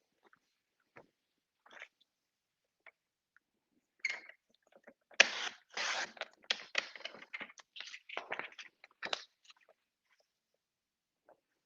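Scissors snip paper for a collage in a quiet room, with a few isolated cuts at first and then a dense run of crisp, close snipping and rustling.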